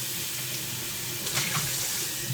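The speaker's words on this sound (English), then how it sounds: "So this I'm going to pour in a sink over here I have in my bar." Goose Island Bourbon County Brand Stout is poured out into a bar sink, making a steady, close, rushing splash of liquid that runs unbroken and swells slightly toward the end.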